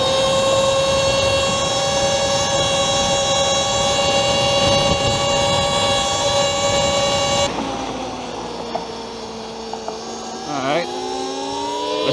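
A Talaria xXx electric dirt bike geared with a 54-tooth rear sprocket runs at full throttle, giving a loud steady whine of stacked tones that holds high, then drops and wavers over bumps in the last few seconds.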